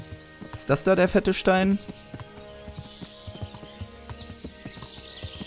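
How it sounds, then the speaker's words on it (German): Hooves clop steadily as a horse is ridden across open ground in Kingdom Come: Deliverance, a quiet, regular beat continuing under and after a brief spoken question. "ich kann auch einfach immer geradeaus jetzt reiten"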